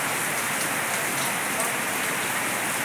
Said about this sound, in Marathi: जोरात पाऊस चालू झाला आहे खूपच, हे बघा.